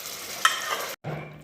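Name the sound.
stirring and mashing sarson saag in pan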